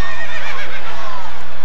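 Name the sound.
horse neighing, horse-drawn carriage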